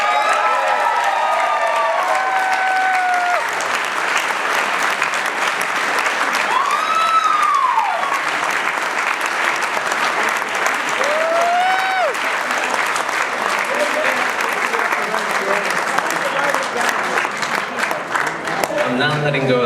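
Thunderous audience applause for a couple being introduced at a celebration, loud sustained clapping and cheering from a large crowd, with whistles and shouts rising over the steady roar.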